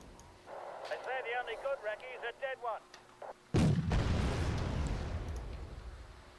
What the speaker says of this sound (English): I think these are their artillery actually.